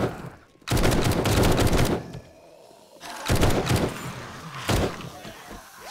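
Bursts of rapid gunfire at zombies in the video game 7 Days to Die (Alpha 21), loud and close, come in three volleys separated by brief lulls, with faint game noise in between.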